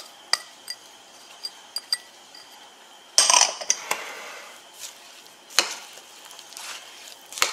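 Shrimp and mung bean batter for Cambodian fried cakes being mixed in a bowl, with scattered sharp clinks of a utensil against the dish, a brief cluster of scraping clatter, and quiet gaps between strokes.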